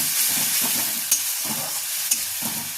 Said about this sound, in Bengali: টমেটো পেস্টটা আমি এবার দিয়ে দিলাম